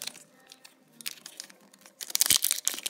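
A trading card pack is torn and opened close by, with soft crinkling that builds into a louder burst of tearing and crackling toward the end.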